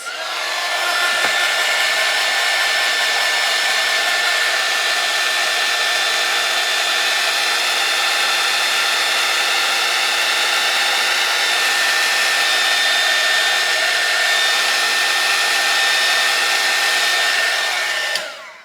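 A hair dryer blowing on a watercolor junk journal page, a loud steady whir that runs continuously for the whole stretch before cutting off at the end.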